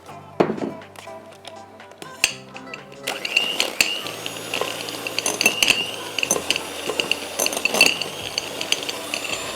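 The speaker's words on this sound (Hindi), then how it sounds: "ज़रा ट्राई करते हैं कि मक्खन हमारा अगर हो गया हो थोड़ा सा सॉफन, तो इसको हम बीट करना शुरू कर देते हैं" Softened butter being beaten in a bowl, heard as a busy run of clinking and scraping strokes from the utensil against the bowl, close and fairly loud, with no talk over it.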